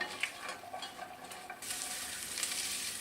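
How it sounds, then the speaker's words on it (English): Onion sautéing gently in a pan over low heat, a soft steady sizzle that grows fuller and brighter partway through, with faint stirring scrapes, close and quiet. "it's just going to be sautéed for 5 minutes on a low heat"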